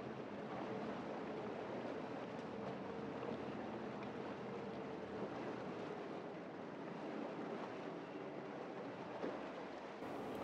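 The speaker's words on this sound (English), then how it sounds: "Just listen, the engines are almost imperceptible when they change gear." Quiet outboard boat motors run on open water, a steady low drone nearly buried under continuous wash of waves and wind noise, with no voices.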